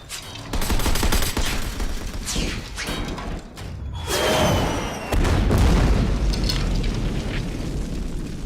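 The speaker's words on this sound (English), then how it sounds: "He's shooting with her weapon." Gunfire in the middle of a battle, heavy dense booms and cracks piling into a continuous loud barrage with rumbling low thuds, close and chaotic.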